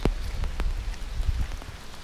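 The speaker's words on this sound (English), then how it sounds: "I'm walking in the rain." Rain falls outdoors in Canada while someone walks through it, a steady patter of drops striking surfaces with a few louder nearby splats, close and continuous with no talk.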